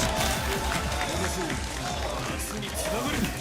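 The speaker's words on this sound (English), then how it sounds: "we hear the Aarhus chants from the crowd" Crowd chanting fills an arena during the Tekken Top 32 at Headstomper 2025, Danish fans backing their champion; a dense, steady roar of many voices with rhythmic pulses runs throughout, with a commentator talking over it.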